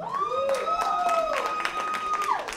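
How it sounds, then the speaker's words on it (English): Comedy club crowd at Hyenas Comedy Nightclub in Dallas applauding and cheering steadily, with strong whistles or whooping rising above the clapping throughout. "Round of applause."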